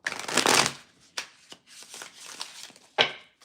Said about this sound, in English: I was told to do an extra shuffle for you.